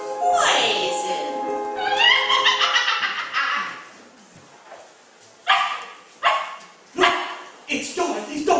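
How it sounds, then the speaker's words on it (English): A dog barks in a stage production of The Wizard of Oz, several short sharp yaps in bursts toward the end, following sung and spoken lines from performers. "It's Dorothy's dog."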